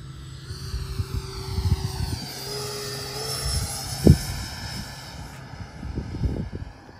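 A heavy RC jet model making a slow pass with full flaps, its turbine whine sweeping in pitch as it flies by, fairly loud, with a brief thump midway.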